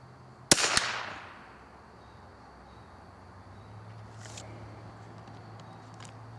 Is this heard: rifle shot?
yes